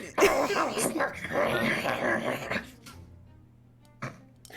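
A person vocally imitates a dog during a tabletop Dungeons and Dragons session, giving a few seconds of whiny, yelping bark-like sounds, followed by a brief quiet and a short thump.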